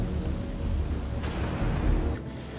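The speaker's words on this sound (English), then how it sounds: "You're disrupting me with this lightning." In the video game Stray, a thunderstorm rolls on with heavy, steady rain hissing throughout and a low rumble of thunder building near the middle, without any talking.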